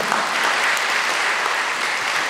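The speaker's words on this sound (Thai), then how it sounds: "ปรบมือดังๆให้กับคุณพ่อดารันค่ะ" Audience applause at a volunteer medical training event in Pattaya, honoring a guest on stage: steady, dense clapping from a roomful of people, sustained and fairly loud throughout with no talk over it.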